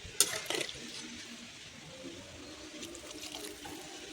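Water is poured into a simmering home-cooked gravy of bara and chickpea curry, giving a faint, brief splash near the start and then a quiet trickle in a calm kitchen.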